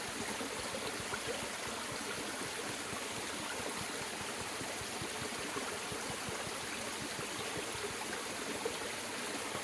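Water swirls and sloshes steadily in a gold pan beside a forest stream, a continuous close watery rush with no break and no voices.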